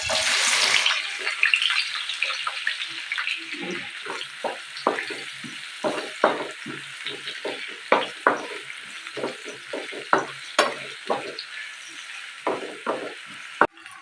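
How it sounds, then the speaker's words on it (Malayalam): Onions sauté in plenty of oil in a pan for a Palakkad-style chicken curry, a soft hiss under a run of scattered stirring scrapes and clicks that grow sparser, with no voices. "ഇനി ഇതിലേക്ക് ഉള്ളിയിട്ട് നന്നായിട്ടൊന്ന് വയറ്റിയെടുക്കാം"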